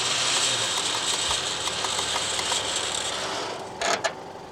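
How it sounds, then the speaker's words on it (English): Winch rope spools back onto a winch drum with a steady mechanical ratcheting whir, close and continuous, ending with a couple of louder clunks. "The last couple of meters are fine to just roll in like so."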